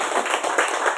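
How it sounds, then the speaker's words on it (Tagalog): A small audience at a talk on the Remontado/Dumagat tribe claps in a brief, bright burst of mixed hand claps, close and alone. "Palakpak!"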